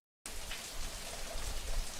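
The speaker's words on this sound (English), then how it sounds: "Also rain." Broadband rain atmosphere recorded for a game's ambient sound set, a steady hiss of rainfall that starts after a short silence and holds a dense, even wash with slight swells throughout.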